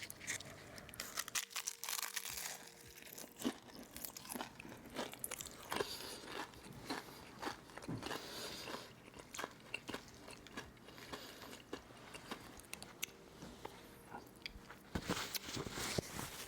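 Crunchy bites and chewing on a bulgogi wonton taco with a crisp fried wonton shell, close and fairly quiet, with repeated crackling crunches and no talking.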